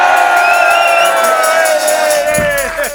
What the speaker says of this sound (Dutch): Dat mag wel een applaus.